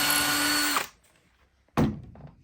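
A power drill whirs steadily while building a wooden fairground high striker, then stops abruptly; after a short silence a sharp clunk or knock follows, close and loud in a quiet workshop.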